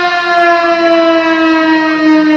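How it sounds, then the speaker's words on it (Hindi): Civil defense siren sounded nationwide across Pakistan during an Independence Day ceremony at a commissioner's office in Gujranwala, a loud, steady wailing tone held throughout. "आप सब लोगों के सामने एक मिनट के लिए सायरन बजाया और ये सायरन पूरे पाकिस्तान में एक ही वक्त पे बजाया जा रहा था"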